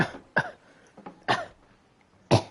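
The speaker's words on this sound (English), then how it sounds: "You have a pretty bad coughing fit." Three sharp, separate coughs, close and fairly loud, with short quiet gaps between them.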